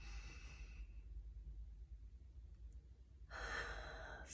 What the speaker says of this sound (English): we'll just begin by taking some breaths in together